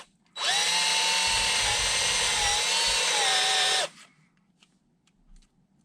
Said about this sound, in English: So we'll just drill out the center of these.